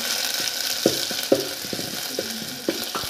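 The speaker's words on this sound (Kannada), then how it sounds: "ಅದರೊಂದಿಗೆ ಲಸನ್ ಪೇಸ್ಟನ್ನು ಹಾಕ್ಕೊಳ್ಳಿ" Garlic paste sizzling and frying in very hot oil in a pan, with a steady crackle and a few sharp stirring clicks and scrapes, close and fairly quiet, no voices.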